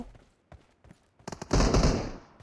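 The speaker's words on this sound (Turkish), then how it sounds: "Hala silah sesi de var." A few scattered pops lead into a sudden burst of loud, rapid gunfire in PUBG Mobile that rumbles and fades, with the crackling reports of a game firefight.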